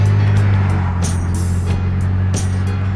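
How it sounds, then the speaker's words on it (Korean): A Porsche car engine gives a steady, deep, close rumble that holds for the whole stretch, with brief airy swells on top and no voices. "엔진의 소리는 저음의 엇박자로 비유되곤 한다"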